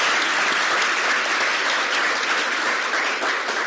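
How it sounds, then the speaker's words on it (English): An audience at an Asia Society event applauds steadily and fairly loudly, a dense wash of many hands clapping that fills the whole stretch without pause. "So let's give a big applause for them."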